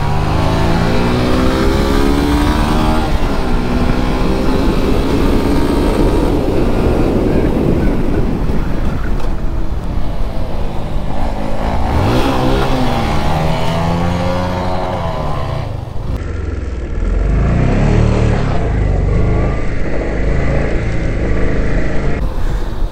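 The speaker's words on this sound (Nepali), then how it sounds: "कुन बाइक गयो सुपर बाइक जस्तो छ त" A superbike roars past on an open road during a street drag run, its engine rising and falling as it goes by, buried under constant loud wind buffeting from a moving motorbike.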